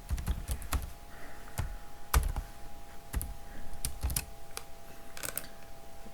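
Code is typed on a computer keyboard, with quick, irregular clicks and clacks in short bursts, some keystrokes sharper and louder, set against a faint steady hum.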